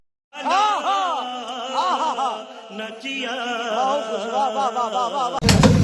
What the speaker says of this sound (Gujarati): આ લાંબા પંપુડા છે, કેવું જોરદારનું વાગે છે